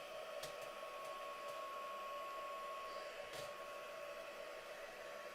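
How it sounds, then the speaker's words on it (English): A heat embossing tool blows steadily for the whole stretch, a constant close whirring hum of hot air with a few faint clicks and no talk over it. "So I'm going to heat emboss this now."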